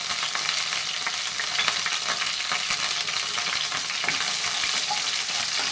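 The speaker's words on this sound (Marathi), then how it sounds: "चांगलं फिरवून परतून घ्यायचं तेलामध्ये व्यवस्थित." Curry leaves, green chili and crushed garlic crackle and fry in oil in a pan, a continuous dense sizzle with scattered pops and stirring scrapes, no voices.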